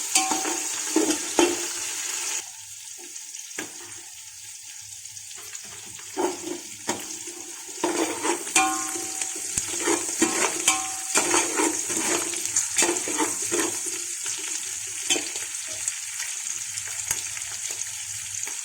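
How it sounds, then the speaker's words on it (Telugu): Curry leaves fry in hot oil in a pan for chicken pulao, making a steady sizzle with bursts of crackle and scraping stirs, close and fairly loud with no talking. "కరివేపాకు వేసుకోవాలి. బాగా వేయించుకోవాలి."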